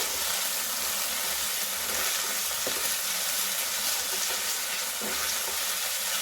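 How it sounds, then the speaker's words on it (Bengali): Egg curry spices with salt, turmeric and cumin paste sizzle in a frying pan as they are stirred, a steady close hiss with a few soft scrapes of the spoon and no talking. "লবণ, হলুদের গুঁড়ো নিয়ে নাড়াচাড়া করব।"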